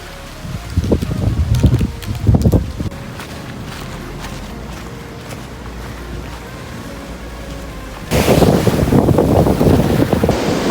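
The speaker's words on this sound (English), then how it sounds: "Waves are coming" Ocean waves on the beach at Varkala, surf washing in with heavy wind buffeting the microphone, rising in loud bursts at the start and again near the end.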